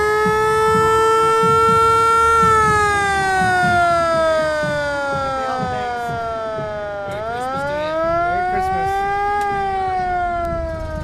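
Refurbished 1951 Ford ambulance siren wailing loudly during a holiday parade, a long steady tone that slowly falls, dips sharply, then climbs again over crowd and street noise.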